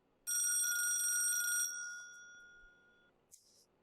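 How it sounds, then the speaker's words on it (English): An office telephone bell rings once, loud, close and bright for over a second, then its tone rings on and fades, followed by a brief clunk of the handset. "That phone only rings if it's something extremely important"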